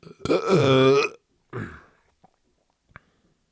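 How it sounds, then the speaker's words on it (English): A loud, drawn-out burp from a man, followed by a shorter second belch and a faint click, with silence in between. "So if I burp at best, throw up at worst, I apologize."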